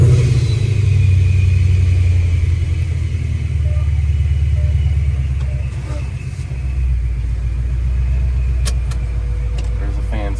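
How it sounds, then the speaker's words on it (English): A Ford Mustang GT engine idles with its exhaust open, a deep, loud rumble close by, steady with a brief dip and small rev changes throughout. "This is with the exhaust open."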